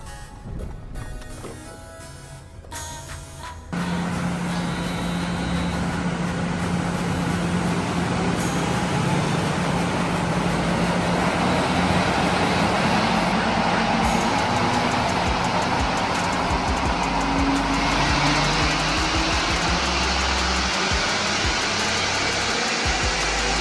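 A supercharged Toyota 4Runner runs on a dyno, a loud sustained engine roar that kicks in after a few quiet seconds and holds steady with a whining drone throughout.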